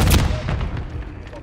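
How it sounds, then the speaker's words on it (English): Grenade blast in Call of Duty, a short loud boom at the start followed by a rumbling, fading tail with some faint scattered gunfire. "Grenade!"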